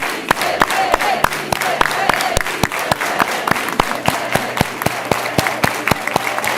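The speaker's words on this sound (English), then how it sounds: "let's do it with an organized hand clap all together" A large crowd claps in steady unison, sharp regular hand claps at a brisk even beat over a murmur of voices.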